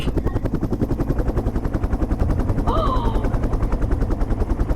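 Fast rhythmic thumping of helicopter rotor blades, loud and close and continuous, with a brief higher whine partway through.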